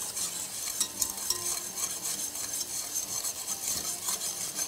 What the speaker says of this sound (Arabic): ونخلط كده كل المكونات ونسيب الصوص لحد ما يتقل.